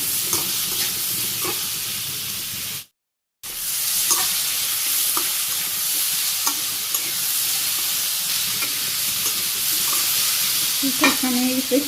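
Cumin, onion and green chillies sizzle steadily in a hot pan on a Bangladeshi village stove, a continuous close frying hiss broken by a brief dropout and scattered stirring scrapes, with no talking.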